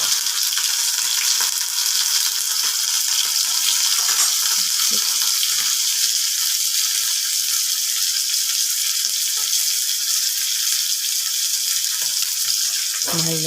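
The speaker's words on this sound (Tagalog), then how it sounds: "Nagpiprito na ako ng tuyo na galunggong." Steady broadband sizzling of dried round scad (galunggong) frying in a pan, continuous and fairly loud, with faint clinks and no talking.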